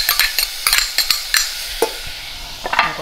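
Chopped onion and minced garlic are stir-fried in a couple of spoonfuls of oil for a seafood jjamppong stew. Close, crisp utensil scrapes and clacks in an irregular rhythm ride over a soft, steady sizzle.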